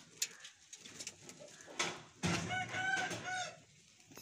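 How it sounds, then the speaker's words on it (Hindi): A rooster crows loudly and close among kept fighting roosters in a Pakistani family courtyard, with pigeons also kept nearby; one long drawn-out crow rises over scattered clucks and bird chatter. "मेरे कजन ने रखे हुए मुर्गे रखे हुए देख लें,"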